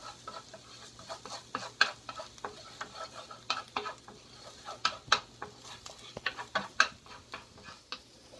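Egg roll filling frying in a pan, a steady sizzle broken by frequent irregular scraping and clinking as a utensil stirs it, close and moderately loud.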